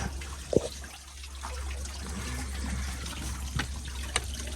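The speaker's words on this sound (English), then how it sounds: "So the waterfall is running." A garden turtle pond's waterfall runs with a soft, continuous trickle and splash, fairly quiet and steady, with a few brief drips and knocks standing out and a low hum underneath.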